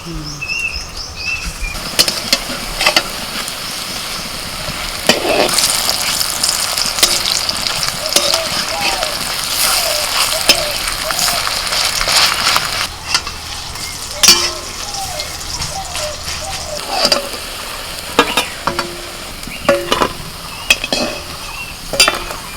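Sesame and gram-flour coated figs from the garden sizzle steadily in a pan of oil for a long stretch. Frequent metal clicks and scrapes of a spatula sound up close, and a voice is faintly audible in the background.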